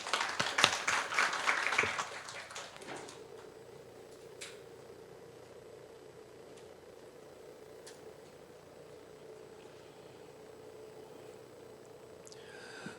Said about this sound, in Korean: 환영의 박수 부탁드리겠습니다